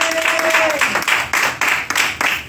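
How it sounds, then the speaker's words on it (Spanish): A church congregation breaks into loud, close applause, a dense patter of many hands clapping with rhythmic swells, a sustained tone fading out at the start. "Un aplauso fuerte a Dios en esta tarde."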